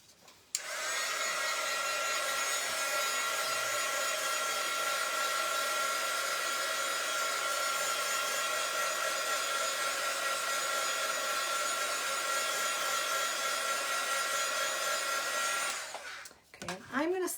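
Hair dryer blowing steadily for about fifteen seconds, drying a DIY craft love bird house, a loud continuous whirring hiss that cuts off near the end.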